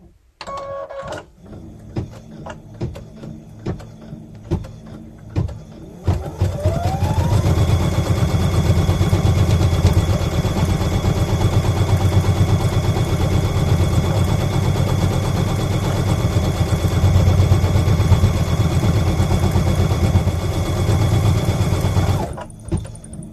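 An embroidery machine stitching an orange-thread appliqué outline on a clover hot pad gives a loud, fast, steady mechanical chatter after a few start-up clicks and a rising whir, then stops abruptly near the end.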